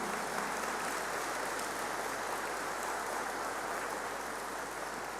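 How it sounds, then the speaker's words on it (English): Applause from a graduation ceremony audience for a band led by Captain Kelly, a steady, even wash of clapping that sounds soft and somewhat distant throughout, with no voices standing out. "So can we please give a round of applause to Captain Kelly and the band."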